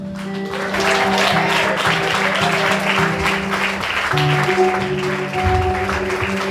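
Church congregation clapping steadily during a worship service, a thick, continuous patter of many hands over a sustained organ or keyboard tone, loud and close throughout.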